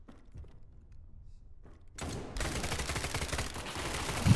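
Gunfire in the SCP: 5K video game breaks out as a dense, continuous burst of rapid shots that starts abruptly partway through and stays loud to the end.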